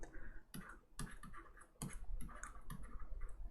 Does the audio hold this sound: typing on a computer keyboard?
yes